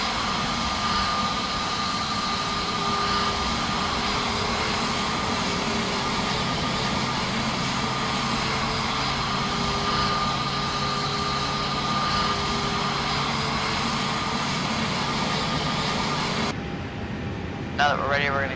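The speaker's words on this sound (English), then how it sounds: "starting engine number 1" An Airbus A320neo jet engine spools up during startup while the APU runs, a steady loud whine and rumble with a thin high tone, holding level for most of the stretch before quieting near the end.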